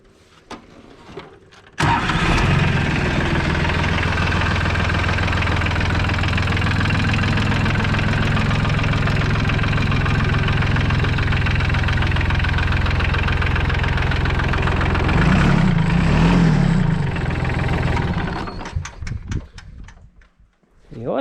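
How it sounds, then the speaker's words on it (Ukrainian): A Solis 26 tractor's diesel engine idles steadily and loudly close by, a deep, even rumble that holds for most of the stretch before cutting off near the end. "Трактор все працює, заводиться чудово, моторчик робить як годинник."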